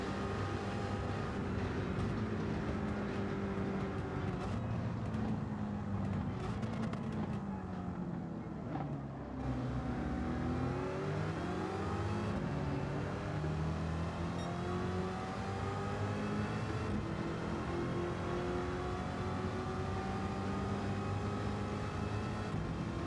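Corvette Stingray Racer Concept race car in Gran Turismo 7 lapping Le Mans, a loud continuous engine drone with rising and falling pitch through gear changes, a brief lift near the middle, no speech.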